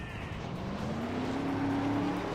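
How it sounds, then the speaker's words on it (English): A race car engine in the NASCAR Racing 2003 video game, a steady loud engine drone with a slowly rising revving tone over a rough rumble. "start your engine!"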